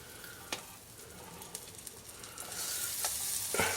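Butter melting into hot, rolling olive oil in a pan for shrimp and veggie pasta, with a soft steady sizzle that swells louder near the end and a few sharp utensil taps against the pan.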